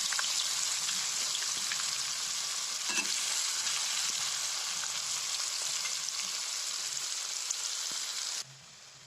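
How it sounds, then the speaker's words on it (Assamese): Onions fry in oil left over from frying chicken for chicken korma, a close, continuous crackling sizzle with faint stirring scrapes that drops off just before the end. "যিখিনি তেল ৰৈ গ'ল ফ্ৰাই কৰাৰ পাছত তাতে মই পিঁয়াজখিনি দি অলপ ফ্ৰাই কৰি লওঁ"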